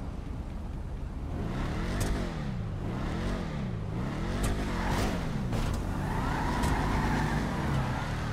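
A Dodge Charger's engine revs in the video game GTA V, its pitch climbing and falling in repeated waves as the throttle is worked, loud and close with a wheelie.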